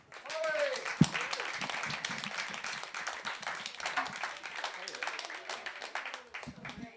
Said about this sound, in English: Big, big, warm round of applause for Paul Alexander.